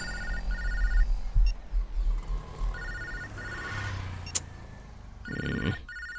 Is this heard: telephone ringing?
yes